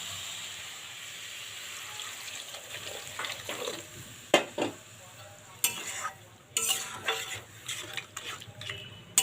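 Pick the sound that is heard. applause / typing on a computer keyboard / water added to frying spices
water added to frying spices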